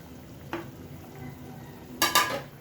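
Pompano fish goes into a pot of simmering ginger broth, a soft bump early on, then a brief, louder splashing clatter near the end over a low, quiet simmer, with no talking.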